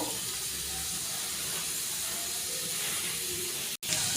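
Spices and flattened rice fry in a pan with a steady, close, broadband sizzle and hiss that continues almost unbroken for a few seconds, with only a brief cut near the end.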